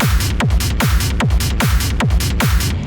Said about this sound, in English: I've got kick, a rumble, open hat, a clap, and a percussion